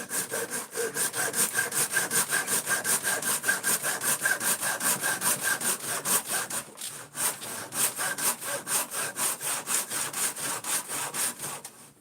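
A hand saw cuts through wood with a knot in it, giving a rapid, regular rasping back-and-forth stroke close up, briefly pausing midway before resuming the same steady rhythm.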